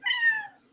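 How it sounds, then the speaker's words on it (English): A loud pet cat lets out a single drawn-out meow that slides downward in pitch, close and clear, followed by a brief sharp click at the end. "I have a very loud cat now, so if you hear meowing throughout these episodes"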